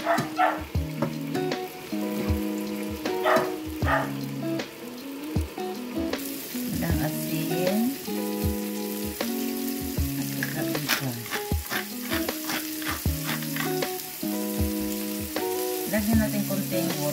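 Mushrooms frying in a pan with onion, giving a continuous close sizzle with intermittent clinks and scrapes of stirring, no voices.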